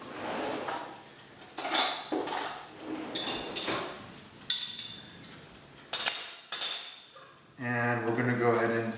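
A spoon is picked out from among dishes in a kitchen while breakfast tacos are made, giving several sharp metallic clinks and clatters spaced apart, followed by a voice speaking.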